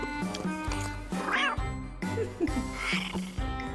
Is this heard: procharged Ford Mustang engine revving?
no